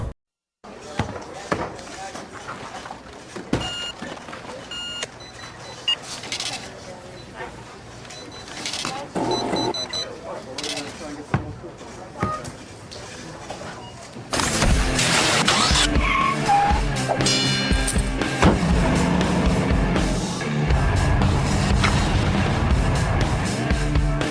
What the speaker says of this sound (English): Now I'm going to show you another video. It's a car commercial.